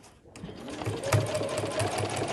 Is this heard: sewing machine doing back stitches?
yes